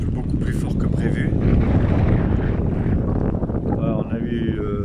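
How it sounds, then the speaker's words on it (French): Strong gusting wind roars continuously around a sailboat anchored near Macinaggio in Corsica, with loud broadband rushing and buffeting throughout, and faint rigging or water tones emerging near the end. "le vent est fort, très fort, beaucoup plus fort que prévu"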